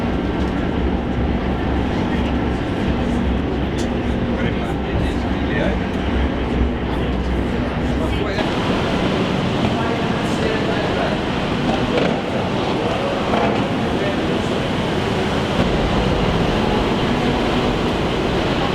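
A train rumbles along the rails with a steady loud roar, the tone shifting midway as it runs on, with a voice briefly heard over it.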